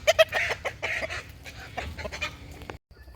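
Backyard chickens clucking and squawking excitedly while pecking at tossed Swiss chard, a close flock with quick overlapping clucks and sharp calls, fairly loud and alone.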